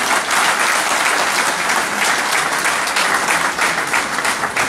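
Crowd at a worker union referendum rally applauding to welcome a speaker, loud, continuous, dense clapping from many hands that holds steady throughout.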